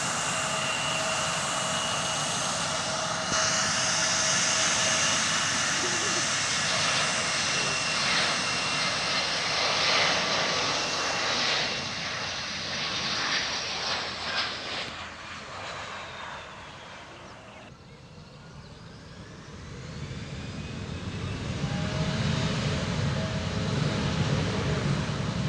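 A fixed-wing airplane passes at Sendai Airport, its engine roar loud and sustained with a slowly shifting whine and Doppler sweep as it moves by. The noise dips, then a fresh rumble builds again near the end.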